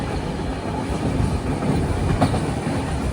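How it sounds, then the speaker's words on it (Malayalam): Mandovi Express passenger train crossing the Mandovi river bridge in Goa, a steady loud rumble of wheels on rails with faint clattering, continuous throughout with no talking. "മണ്ടോവി എക്സ്പ്രസ് ഇതാ മണ്ടോവി റിവർ ക്രോസ് ചെയ്യുകയാണ്."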